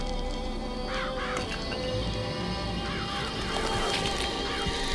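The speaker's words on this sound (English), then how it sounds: "Press L2 to summon murderous crow to stun and damage your enemies." Summoned crows from the Murder of Crowds vigor in BioShock Infinite, repeated harsh cawing calls over a dense, loud game backdrop, several caws in irregular bursts across the moment.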